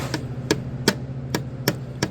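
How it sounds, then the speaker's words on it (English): Six sharp metallic hammer taps at a steady, unhurried rhythm, close by, with a low hum underneath, knocking a part into place during an alternator replacement on a 2013 Hyundai Sonata 2.4L. "Just tap with the hammer, make sure it'll knock it all the way on."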